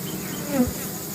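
Honey bees hum steadily around a hive box that holds a new queen. Midway through, a single bee drones past close by in a short, louder swell, and no one speaks.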